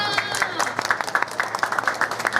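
Audience applause at a Thai manga festival panel on the comics publishing market, brisk scattered clapping over a short stretch with speech mixed in beneath it.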